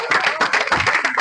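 A short patch of classroom clapping during a maths lesson on fractions: a brief, close run of fairly steady claps from several pupils, heard on its own.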